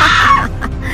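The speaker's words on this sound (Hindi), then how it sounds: "जोरदार आवाज में चीखने लगती है" A woman's loud, harsh scream with bright upper tones, held for about half a second and then trailing off into a noisy wash.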